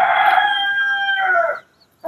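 A rooster crows once, loud and close, on a village morning in rural Maharashtra; the long drawn call fills about a second and a half and then cuts off into near silence.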